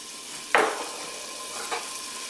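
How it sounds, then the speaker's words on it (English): Onion dropped into hot oil for a curry base gives a sudden loud sizzle burst that settles into a steady hiss, with a second smaller flare a moment later. "And immediately I'm gonna hit it with the onion."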